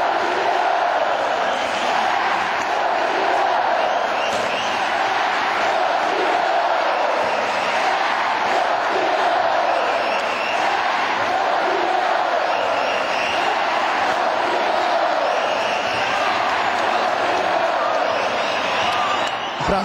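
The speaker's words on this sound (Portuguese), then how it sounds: "Aí foi a vez da torcida explodir de vez." A basketball crowd roars in celebration after a championship win by Mogi das Cruzes, a dense, loud, continuous wall of cheering and shouting that holds steady throughout.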